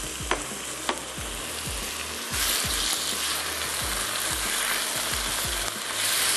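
Tomatoes sauté in a pan for a beef sauce, giving a steady close sizzle broken by repeated scraping and clinking stirs, with no voices.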